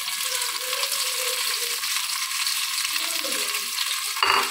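Chopped onions fry in hot oil in a cooking pot, a steady bright crackling sizzle throughout, close and continuous, with a short clatter near the end.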